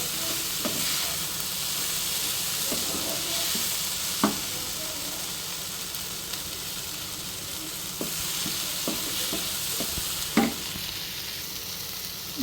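Grated coconut fries and gets stirred in a pan for tomato chutney, giving a steady soft sizzle with a few sharp scrapes and clinks of the spoon against the pan.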